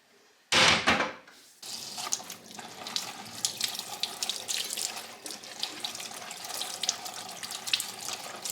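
Garden-picked salad leaves washed under a running kitchen tap, opening with a loud close gush of water, then a steady softer stream with splashing and rustling of leaves in the sink.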